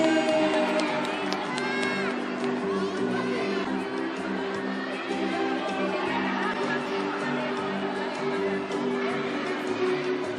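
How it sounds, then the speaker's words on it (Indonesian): Kindergarten children at a school year-end celebration cheer and shout after prize winners are announced, a lively crowd of young voices with whoops, some chatter and scattered clapping, sustained and close. "Tepuk tangannya teman-teman."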